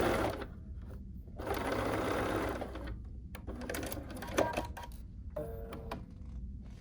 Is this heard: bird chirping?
no